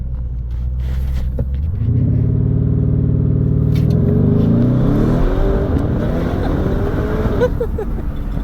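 A Lamborghini Urus twin-turbo V8 rumbles close by, then revs up with a rising roar that climbs and falls back before settling, with faint voices in the background.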